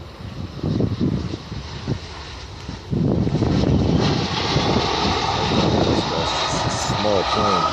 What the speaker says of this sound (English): Yeah, that's Air China, you can tell. Kind of. Yeah, that's a 777.